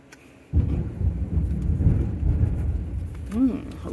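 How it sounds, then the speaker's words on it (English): Distant thunder rumbles low and steady after a brief quiet start, rolling on for a few seconds with a short tonal chirp near the end. "lovely thunder, yay"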